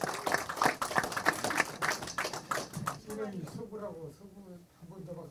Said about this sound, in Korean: 한 번 더 박수 좀 주십시오